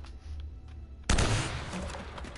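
Gunfire in Uncharted: Drake's Fortune breaks out suddenly after a quiet moment, a dense close burst of shots that keeps rattling on loudly.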